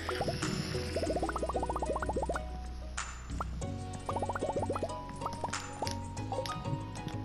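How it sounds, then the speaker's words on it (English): Watering crops in the farming game Stardew Valley brings quick bursts of light plinking water drips, several quiet rounds in a row with soft pauses between them. "Steven, you forgot to water Gato."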